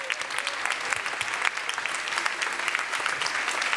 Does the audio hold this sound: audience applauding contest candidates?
yes